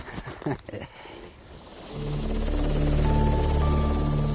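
A helicopter close to police dogs in training builds from quieter rustling into a loud, steady rotor and turbine roar with a rising whine, filling the second half.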